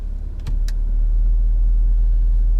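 A BMW X7 engine switched into sport mode gives a deep, loud, close rumble. It swells after about half a second into a steady heavy drone, with a couple of brief clicks near the start and no talking.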